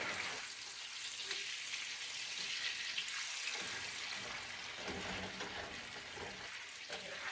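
Potatoes fry in a pan with a continuous close sizzle and crackle, joined by occasional stirring clatter and a brief watery hiss, with no voices.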